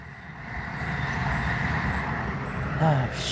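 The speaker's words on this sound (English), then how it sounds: "Train!" A passing train rumbles steadily, growing a little louder over a few seconds, with outdoor background sounds and brief voices nearby.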